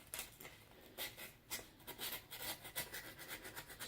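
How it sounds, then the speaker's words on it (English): Sandpaper rubbing rust off a piece of metal, a faint, close, continuous scratchy rasping in quick, uneven back-and-forth strokes. "Just got to sand it off"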